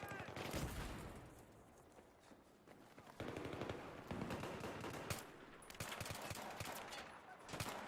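Machine gun fire in the Xbox 360 game Battlefield 3 rattles in repeated rapid bursts, dense and loud in the foreground, with overlapping shots and faint background voices mixed in.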